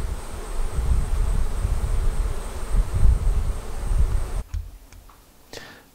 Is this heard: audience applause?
no